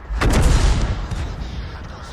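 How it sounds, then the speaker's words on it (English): Tank gun fire in World of Tanks near a Pz.Sfl. IVb, a single heavy close boom followed by a decaying rumble and trailing battlefield noise. "He can put some shots into it."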